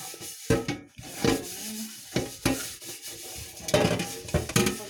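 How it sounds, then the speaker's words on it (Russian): Scrubbing of a fire-blackened pot with a dishwashing cloth, a series of rough rubbing strokes in uneven bursts with small clinks, close and fairly loud, no talking. "Сначала попробуем просто салфеткой для мытья посуды."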